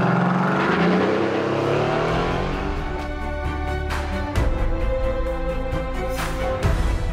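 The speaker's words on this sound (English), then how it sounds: "the specially developed exhaust system not only delivers genuine race car sounds" A 2017 Mercedes-AMG GT R with a specially developed race-style exhaust roars loudly and continuously, revving and accelerating through several gear changes with sharp exhaust barks.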